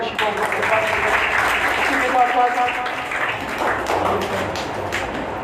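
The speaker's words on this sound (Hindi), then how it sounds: "उनका इस्तेमाल है जोरदार तालियों के साथ" Loud, enthusiastic applause from a crowd, continuous clapping with a murmur of voices mixed in.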